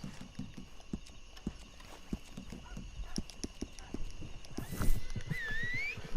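Horse hooves in the video game Red Dead Redemption 2: a steady clip-clop of hoofbeats at a walking pace, fairly quiet, with a short whinny near the end.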